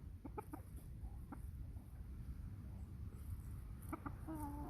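A chicken gives a few short, soft clucks against a low background rumble, with a brief squeaky call near the end.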